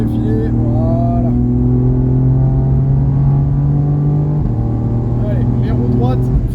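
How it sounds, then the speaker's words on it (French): Race car engine on a circuit at Mireval, droning steadily and loud at part throttle as the driver feathers the gas to settle the rear, with a brief drop in revs midway; a voice talks over it. "on reprend le filet de gaz toujours pour stabiliser l'arrière de la voiture"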